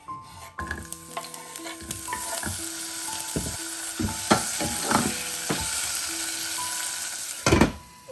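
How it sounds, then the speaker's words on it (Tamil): Onion and tomato sizzle in hot oil in a pan, with a constant frying hiss and repeated scraping stirs and clanks from a spoon, close and loud. "அது ஆயில் கொஞ்சம் வந்த அப்புறம் நான் அனியனும் டொமேட்டோவும் சேர்த்திக்கிறேன்."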